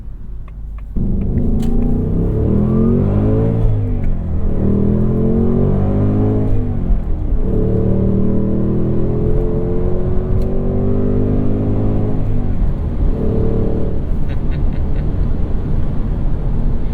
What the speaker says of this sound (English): the car automatically brings the RPMs up to meet me where it should be, rather than me having to balance the clutch